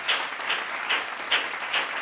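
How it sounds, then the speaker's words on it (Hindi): Applause from a seated audience at a national achievement day ceremony, a steady wash of clapping with regular swells about every 0.4 seconds, moderately loud and unbroken, with no voices over it. "जोरदार तालियां।"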